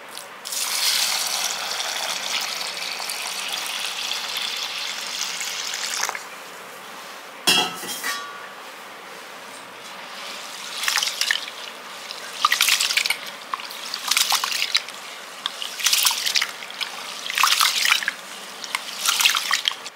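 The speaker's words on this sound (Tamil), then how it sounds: "போட்டுட்டு நம்ம தண்ணி ஊற்றி நல்லா கழுவிட்டு ஊற வைக்கணும்." Soaked rice and fenugreek being washed by hand in a vessel of water, with trickling and dripping, splashes, and clinks of the pot in irregular bursts at close range.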